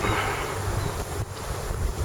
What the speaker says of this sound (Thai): ลมแรงนี่